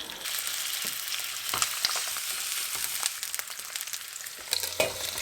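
Chicken frying in a pot, loud and continuous sizzle with crackling pops and occasional scrapes of stirring, close by.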